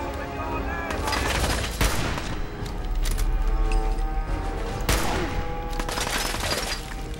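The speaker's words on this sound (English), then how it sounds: "I think this is the job for my bayonet and heavy sniper rifle" Heavy sniper rifle shots in Fallout 4, loud sharp cracks at about 1.8 and 4.9 seconds, set among a dense, continuous game soundscape of rumbling and clatter.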